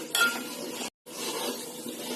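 A spoon scrapes and stirs flour roasting in a pan with soft metallic clinks and a faint sizzle, briefly stopping before resuming.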